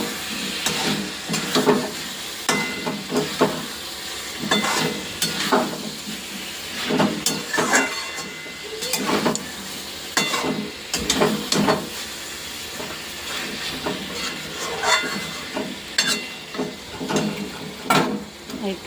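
Potatoes and spices stir-fry in a pan, giving a steady sizzle and hiss with repeated scraping bursts from stirring, close up and without talk.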